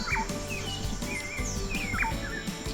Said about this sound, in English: I hear insects now chirping.